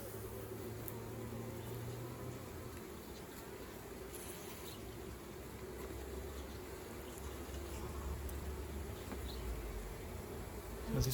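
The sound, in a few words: honey bees buzzing in a hive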